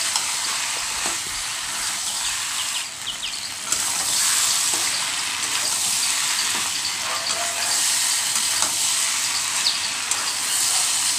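Potatoes and prawns salted and stirred in a pan give a loud, close, continuous frying sizzle and hiss, with scraping stir strokes breaking through throughout.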